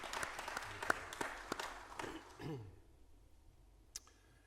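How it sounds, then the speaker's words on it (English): An audience at a residents' council meeting applauds with scattered, moderately quiet clapping that thins out and fades after about two seconds, followed by a single faint clap. "So a big round of applause for all of them."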